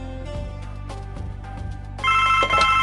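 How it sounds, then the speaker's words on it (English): A telephone rings in the video game The Blackwell Legacy, giving tonal electronic rings over game background music, clear and fairly loud, with the last ring sharper and brighter. "Our phone is ringing, so we may as well answer that."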